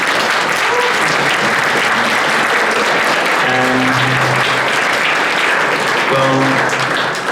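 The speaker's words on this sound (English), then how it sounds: "I would like one last round of applause for all the staff that is there" Loud, sustained crowd applause for convention staff at a furry convention opening ceremony, dense clapping filling the hall with brief tonal sounds rising through it.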